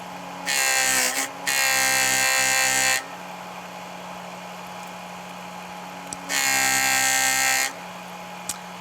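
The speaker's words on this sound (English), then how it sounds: "holding it right up underneath the wheel and just polishing the star" A buffing wheel polishes a matte bead to a high-gloss finish. It gives two loud bursts of bright, hissing whine as the bead is pressed against the wheel, each dropping back to a quieter motor hum between contacts.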